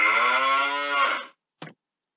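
A single long cow moo, loud and close, with a strong harmonic drone for over a second, then a short, fainter second call after a brief pause.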